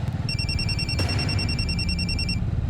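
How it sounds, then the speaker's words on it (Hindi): An electronic phone ringtone trills in a steady, rapidly pulsing two-tone pattern, fairly loud and close, over a low indoor background, with a brief click partway through. "तुम्हारा फोन बज रहा है।"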